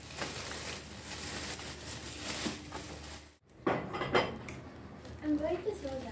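Pots, pans and cutlery clatter and clink in a home kitchen in Lebanon as cooking begins, with a brief pause midway and then sharper knocks and scrapes close by.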